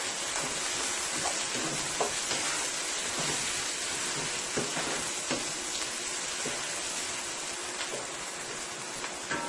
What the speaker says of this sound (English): my garlic and my oil is being fried now for the past minute and a half